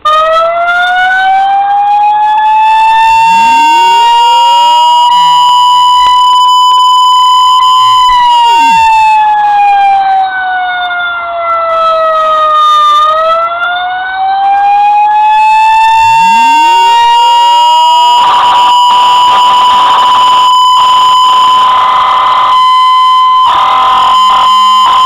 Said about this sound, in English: It's a longer, drawn-out type Federal, and then there's some air horns mixed in with it as well.